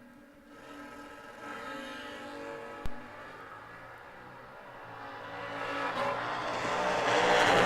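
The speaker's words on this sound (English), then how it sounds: "Nice wheels up charge there for the Monza, but going to come up short." A Monza and a 1973 Camaro launch in a drag race, engines screaming and building steadily as the cars pull away, with a sharp tyre bark early on and the roar swelling louder toward the end.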